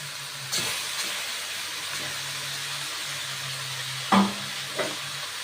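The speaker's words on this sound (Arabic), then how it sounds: "وابدأ على طول انزل باللحمة" Meat dropped into a pot for green beans with meat, a steady hiss of frying throughout with a few sharp clanks and stirring knocks, close and moderately loud.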